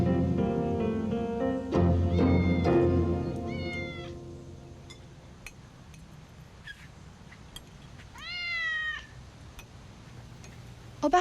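A cat meows repeatedly indoors, several drawn-out rising and falling calls spaced apart over quiet background noise, with a longer wavering meow near the end.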